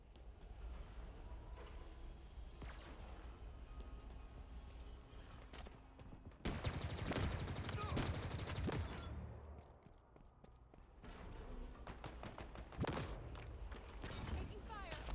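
Automatic weapon fire from Halo Infinite multiplayer, rapid bursts of gunshots layered with game effects and explosions, loud and dense through the middle, then resuming in shorter bursts alongside callouts.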